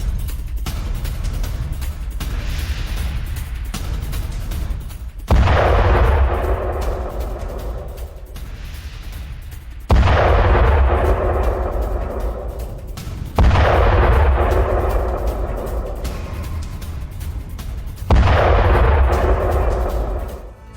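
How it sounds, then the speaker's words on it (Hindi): Russian artillery firing in Kursk, each heavy boom followed by a long rolling decay; four loud blasts roughly every four to five seconds, with distant gunfire rumbling between them and no one speaking. "रूसी आर्टिलरी यूनिट का एक्शन।"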